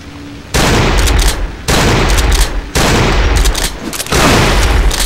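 Bursts of gunfire from the Cry of Fear video game, four loud, close volleys of rapid shots with brief pauses between them.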